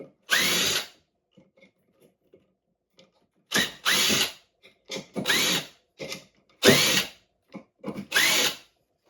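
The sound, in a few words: cordless drill (Craftsman 20V) removing screws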